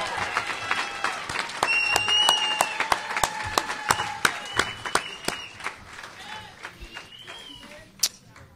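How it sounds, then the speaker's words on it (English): Clapping audience at a Pace Athletics Hall of Fame awards dinner for a 2016 inductee, a burst of applause that thins into scattered sharp claps toward the end, with some voices mixed in. "Let's give another round of applause for Ginny Ziogas Torreso"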